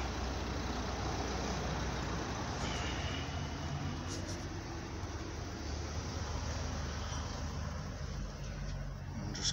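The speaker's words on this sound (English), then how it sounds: "I'll just close the door so we don't get the traffic noises." Road traffic passing outside a shop: a continuous low rumble of engines and tires at moderate distance, steady for nearly ten seconds, with a few faint higher clatters and no talking.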